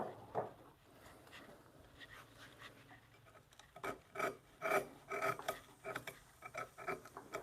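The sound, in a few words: chisel paring wood across the grain on a tenon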